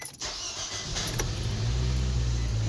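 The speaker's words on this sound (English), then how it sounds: "So I'm going to get the engine on." A 2015 Nissan Micra engine with a head gasket leak cranks briefly and catches, then settles into a steady, close idle rumble.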